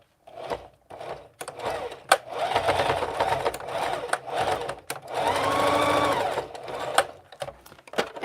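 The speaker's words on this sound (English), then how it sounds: "Let me just sew this little tiny section over here because it's going to bother me." Home sewing machine stitching a tiny section of fabric in short bursts, stopping and starting with a longer steady run near the end; close and fairly loud.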